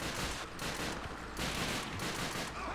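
An MP40 submachine gun fires in Call of Duty Finest Hour on the PS2 with rapid bursts of automatic gunfire, dense and continuous at moderate loudness.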